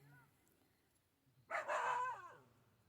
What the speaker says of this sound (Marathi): कुत्रं आहे